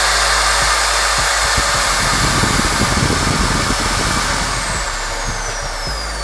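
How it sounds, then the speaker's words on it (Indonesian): A Dong Cheng electric drill runs steadily at over 3000 RPM, a loud continuous motor whine with a broad airy hiss that holds level for about six seconds without pauses. "Cukup tidak berisik lah untuk bor ini."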